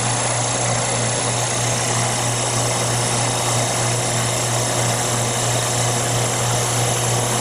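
An Amermac 711 tire truer machine takes a light cut on a turning tire, giving off a steady, loud mechanical drone with an even hum that holds unbroken throughout.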